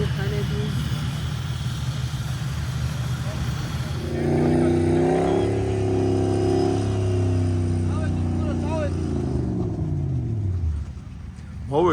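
Off-road competition cars gathering at the Off-Road Bulls Trophy Challenge 2025 in Saghupi, engines rumbling nearby before one revs loudly with pitch climbing and falling over several seconds, voices faint in the background.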